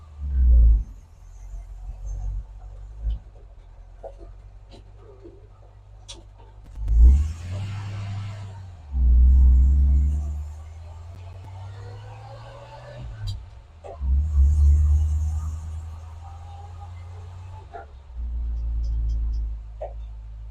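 A 1950 Chevy with newly fitted power steering rolls on its first drive in decades, its low engine rumble swelling and fading in several surges under a fairly quiet background.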